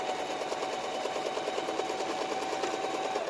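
A sewing machine runs a zigzag stitch, joining fabric pieces at an opening, a steady fast mechanical whir with rapid regular needle ticks throughout, moderately loud and alone.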